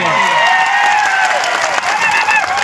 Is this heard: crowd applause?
yes